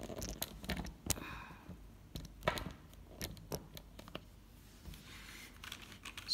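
Keys clack on an Ajazz 75% mechanical keyboard in bursts of close, crisp strokes with short pauses between runs of typing, no talking.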